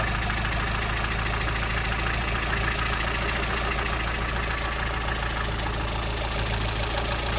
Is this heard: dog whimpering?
no